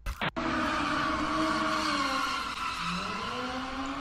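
A Dodge Hellcat driving hard and skidding, giving a loud, sustained engine roar with a shifting whine and tire noise that holds steady throughout after a brief break at the start.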